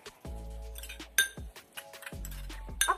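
A spoon clinks against a bowl while a tea-grounds face mask mixed with brewed tea is stirred, giving light irregular taps and scrapes close up, with brief ringing clinks and no speech.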